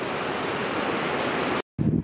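Ocean waves heard from a lookout above the sea on Yakushima make a broad, steady roar mixed with wind buffeting the microphone, then cut out briefly before the wind gusts return.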